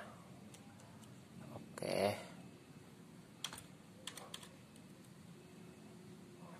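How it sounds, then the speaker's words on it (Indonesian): An old USB computer keyboard connected to an Android phone gives a few sparse, quiet keystroke clicks in a hushed room, with a louder rustling handling noise early on. "saya ngetik dari sini"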